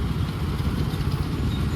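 A KTM Duke 250 motorcycle idles close by, a steady low engine rumble with an even throb that holds level throughout, with no voices over it.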